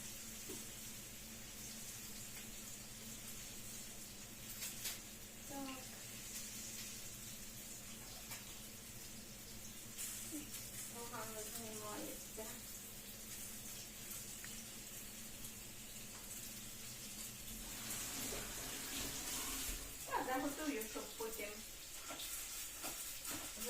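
Onion frying in a pan, a quiet continuous sizzle under faint kitchen clatter, with soft voices briefly audible in the background.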